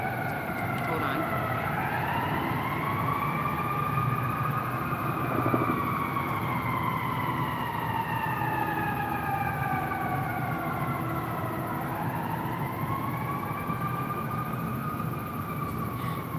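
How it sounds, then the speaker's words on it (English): An ambulance siren wails past with a rising and falling tone over steady traffic rumble, a helicopter also passing, sustained and fairly loud for the whole stretch. "ambulance and a helicopter going by"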